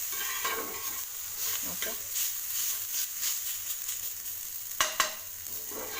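Fenugreek leaves sauté in a pan for methi paratha stuffing, giving a steady sizzle with scraping stirs and a couple of sharper clatters near the end, while a voice speaks briefly over the cooking.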